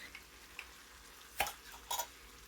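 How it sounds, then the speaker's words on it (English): Home-canned, fully pressure-cooked ground beef tipped with its juice into a stuffed pepper casserole and stirred, heard as a faint quiet background with a couple of short clattering knocks of spoon against pan. "We are going to add our ground beef to the mix"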